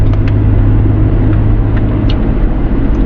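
Steady road rumble of traffic heard from inside a moving car on the way into Alabang, a low continuous drone with faint passing hiss and no voices.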